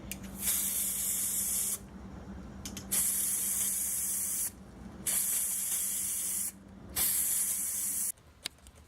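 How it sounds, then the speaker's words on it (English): Three long bursts of spray paint hiss, each lasting over a second, separated by short pauses, with a final brief spurt at the end, outdoors at night. "Not too close, and you're just gonna spray."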